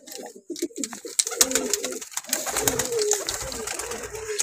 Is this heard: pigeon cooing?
yes